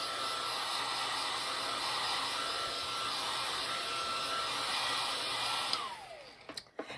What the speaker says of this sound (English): let me give this a blast of my heat tool